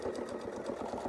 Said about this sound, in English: And now I can just start sewing to the crosshair line.